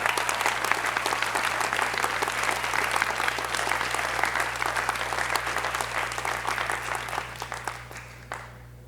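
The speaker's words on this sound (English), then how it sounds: "So let's all give them a round of applause as well." An audience in a theater at a school honors and awards ceremony applauds the students' parents: loud, dense, continuous clapping from a large crowd that tapers off near the end.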